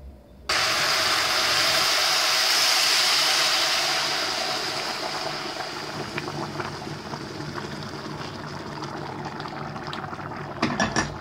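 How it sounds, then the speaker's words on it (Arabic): Hot water mixed with stock cubes poured into a pot of Egyptian rice with vermicelli, a loud continuous rushing splash up close that starts abruptly and slowly softens into bubbling and light clatter. "هبدا ان انا اضيف الميه اللي فيها مكعبات المرق"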